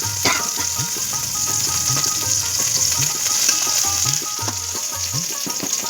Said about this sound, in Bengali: এবার যে কুচি করে রাখা যে টমেটোগুলো ছিল সেটা আমি ছেড়ে দিলাম